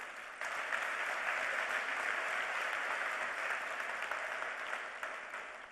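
A conference audience at a management conclave breaks into sustained applause, a dense steady wash of many hands clapping that starts abruptly and holds evenly throughout.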